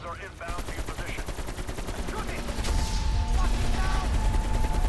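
Sustained automatic gunfire in Black Ops Cold War Zombies, a rapid continuous stream of shots that grows louder toward the end, mixed with game effects and players talking.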